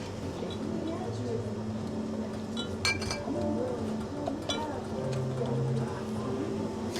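Ice cubes clink and rattle against glass in a few sharp bursts, close up, while people talk quietly in the background.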